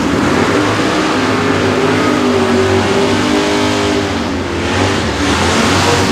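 A Plymouth Satellite and a 1970 Camaro do burnouts at Atco Dragway in a drag race, giving a loud, sustained engine roar with screaming tyres that stays intense for the whole stretch.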